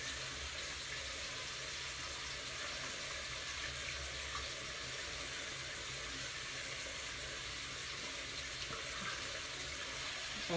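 Water runs and splashes steadily at a sink during face washing, a quiet continuous watery hiss with no voices.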